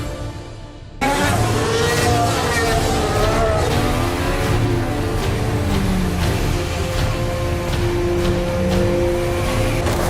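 Formula 1 cars racing at the Monaco Grand Prix after a safety car start on a wet track, engines roaring loud and continuous with shifting high whines as cars pass, cutting in abruptly after a brief quieter moment.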